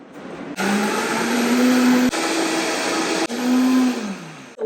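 A kitchen blender whirs loud and close while blending watermelon lemonade, running in three steady bursts separated by brief stops, its motor pitch dipping slightly as it spins down near the end.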